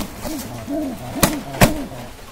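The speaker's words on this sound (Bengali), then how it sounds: "এইখানে যে একটা বাচ্চা পায়রা ডিম তা দিচ্ছিল" A young pigeon sitting on an egg coos softly and close, in a string of rolling, repeated notes broken by two sharp knocks.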